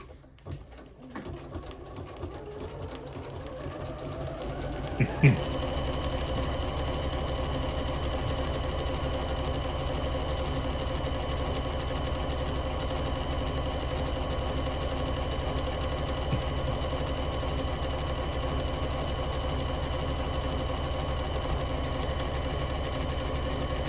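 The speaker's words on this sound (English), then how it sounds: "You hear that popping. That needle's probably just very, very slightly damaged." A Janome MC6600 sewing machine with a very slightly damaged needle runs at steady speed, giving a dense, even mechanical whir with a sharp pop near the start and no talking.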